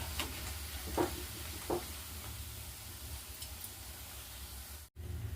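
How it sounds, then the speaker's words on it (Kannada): Crisp onion bondas frying in hot oil over a medium flame, giving a steady, soft sizzle with a few sharper pops and clicks near the start; no one speaks. "ಈ ಆನಿಯನ್ ಬೋಂಡನ ಮೀಡಿಯಮ್ ಫ್ಲೇಮಲ್ಲಿ ಇಟ್ಕೊಂಡು ಬೇಯಿಸ್ಕೋಬೇಕು"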